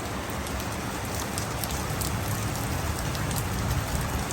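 Steady, dense rain pours onto a rooftop under a cloudy sky, a continuous close hiss of drops with no pauses or voices.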